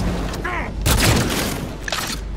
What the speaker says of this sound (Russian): Оця пушка хороша, я з двох вистрілів розвалю.